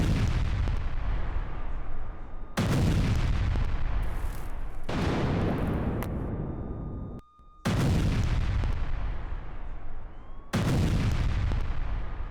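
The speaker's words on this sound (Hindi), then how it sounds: "मिसाइल अटैक, हमले के बाद रिफाइनरी में लगी आग।" Heavy explosions from a missile strike on an oil refinery in Tehran, a series of four or five loud, booming blasts, each with a long rumbling decay, one after another with no voices.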